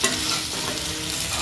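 Food stirred in a hot kadai with pepper, cumin, mustard seeds, urad dal and curry leaves, a close, continuous sizzle and scraping stir filling the short moment.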